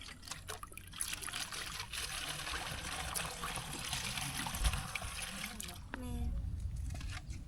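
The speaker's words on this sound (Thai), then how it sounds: "ล้างขวดด้วยเนาะตัวนี้เปื้อน" Water trickles steadily while a stained drinking water bottle is rinsed at a village well, a continuous close splashing dribble with a voice talking over part of it.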